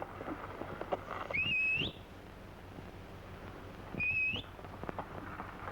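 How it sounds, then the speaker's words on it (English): A man gives two short rising whistles a few seconds apart, each a brief bright swooping note, over a low rumbling background. "Don't do you no good to whistle."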